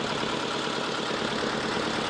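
A trawler boat engine runs steadily, a continuous droning hum with a mechanical rattle, close and unbroken throughout with no voices over it.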